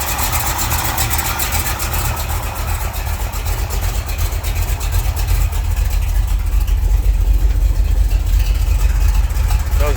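Chevrolet Camaro SS with a 396 big block V8, mild cam and automatic transmission idles steadily after a cold start, a loud, close, continuous low rumble that grows slightly louder partway through.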